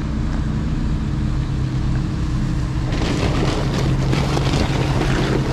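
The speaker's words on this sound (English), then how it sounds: "I don't know if you can hear that fucking truck just rumbling around." Rumbling idle of an 18-wheeler truck engine heard as a steady low drone with wind buffeting the microphone, growing rougher and noisier partway through; no one speaks.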